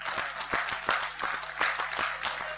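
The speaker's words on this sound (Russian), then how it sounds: "Давайте похлопаем Богу за нее." Audience applause: a crowd claps in a steady, almost rhythmic pattern of quick, dense claps, continuous and moderately loud for a few seconds.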